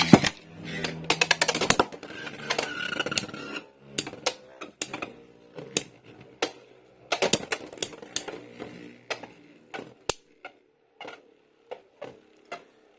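Hasbro Beyblade tops, including a Saber Samurai, are launched and clash in a plastic stadium, making dense rattling and clattering at first that thins into sharp, scattered ticks and knocks as the spin slows, close up and without voices.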